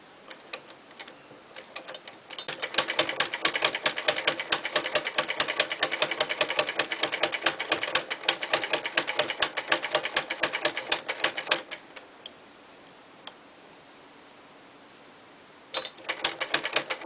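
A sewing machine runs in a long steady burst of rapid mechanical ticking, stitching a floor mat made from old saris and suits, then stops, with a short restart near the end.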